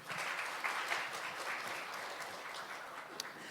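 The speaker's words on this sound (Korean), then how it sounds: "다시 한 번 더 박수로 한번 맞이해 주시죠." An audience at a 2023 food industry outlook conference applauds steadily and densely throughout, a continuous wash of many hands clapping.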